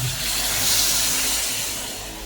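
A little water hits a hot pan of pork kaldereta with potatoes and carrots, giving a broad steady steamy hiss that slowly fades.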